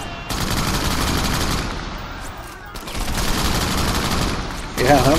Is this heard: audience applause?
no